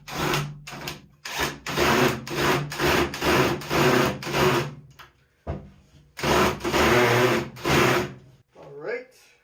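A cordless drill driving screws for self-leveling feet into a wooden work table, loud repeated motor bursts of a second or so each, separated by short pauses, close up.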